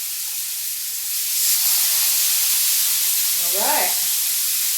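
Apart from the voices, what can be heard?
mahi mahi fillet sizzling face down in an oiled pan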